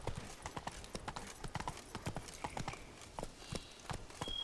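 Horse galloping in The Witcher 3, rapid rhythmic hoofbeats thudding close and steady throughout with a faint tonal ambience behind.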